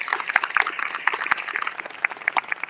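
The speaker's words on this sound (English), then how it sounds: "Round of applause for the partners." A crowd claps at a community event on Black environmental justice, a dense, lively patter of many hands close by, lasting only a few seconds.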